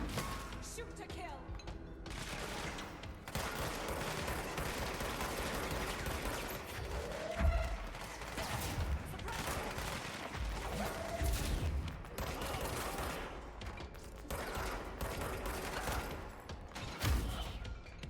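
Sustained gunfire from the video game Control, with dense bursts of shots, thuds and crashes filling the scene, plus a few brief voice fragments.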